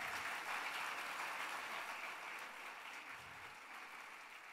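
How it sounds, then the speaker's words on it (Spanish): A church congregation applauds during a sermon, producing a faint, steady wash of clapping that slowly thins toward the end. "Dale el aplauso al Señor"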